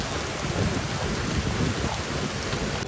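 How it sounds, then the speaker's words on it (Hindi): Heavy rain pouring during a storm in Varanasi, a loud, dense, continuous roar of falling water with a low rumble beneath, steady throughout and free of voices. "काफ़ी तेज़ बारिश हो रही है"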